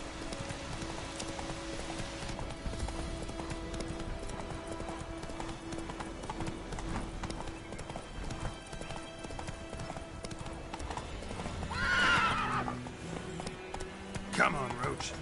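Galloping horse hooves in The Witcher 3 video game, a steady rapid clip-clop running through the whole stretch under game music, with a brief whinny-like swell near the end.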